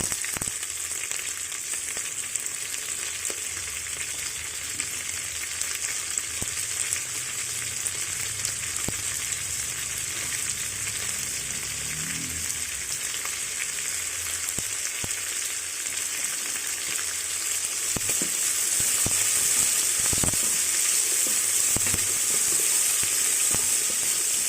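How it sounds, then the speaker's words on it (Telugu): Onions frying in hot oil in a pan for moringa flower biryani, a close, steady crackling sizzle lasting throughout, with occasional stirring scrapes and rising hiss toward the end. "అవన్నీ ఫ్రై అయ్యాక ఉల్లిపాయలు"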